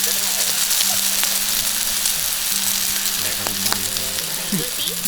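Pork sizzles on a Thai moo kratha tabletop grill in a continuous, dense frying hiss. A few faint clinks and small scraping sounds rise above the steady sizzle.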